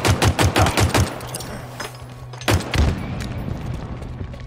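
Rapid automatic gunfire in Halo Infinite during a capture-the-flag match, a burst of close, loud shots, then a sustained hum and a second heavy blast with continuing fire.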